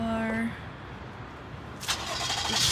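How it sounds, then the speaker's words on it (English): A car engine in snowy Winnipeg, a low steady rumble with a brief tonal whine early, then a louder hissing surge near the end, under voices. "Car."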